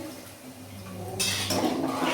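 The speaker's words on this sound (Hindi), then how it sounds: "और ये देखिए मैं डाल रही हूँ पानी इसको पकने के लिए" Water pours into a cooking pan of raw papaya sabzi, a sudden gushing splash that starts partway in and continues loud to the end over a faint background hum.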